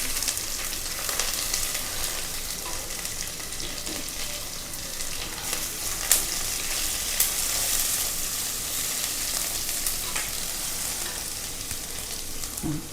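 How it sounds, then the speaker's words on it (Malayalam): Onion, ginger and garlic frying in a pan for a coconut-based anchovy and green mango curry, giving a loud, continuous close sizzle with occasional stirring clicks and no voices. "ഇനി ഇതിലേക്ക് നമുക്ക് ഇഞ്ചി ഇട്ട് കൊടുക്കാം. ഇഞ്ചി ഇട്ടു, വെളുത്തുള്ളി ഇട്ട് കൊടുക്കാം."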